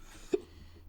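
A single short, sharp burst from a nearby person, sudden and brief against a quiet room.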